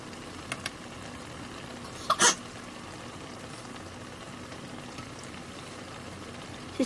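Soft tofu stew (sundubu jjigae) simmers gently on low heat with a faint, steady bubbling. A single brief clatter sounds partway through, and a couple of tiny ticks are heard.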